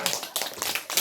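Classroom applause from students after a correct science answer, a brief burst of quick, close, irregular hand claps lasting about a second.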